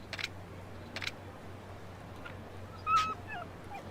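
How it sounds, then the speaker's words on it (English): A dog whimpers and yips in the Yakuza video game, three short plaintive cries spaced across a few seconds over a low steady background hum, with no talking. "The dog needs something to eat."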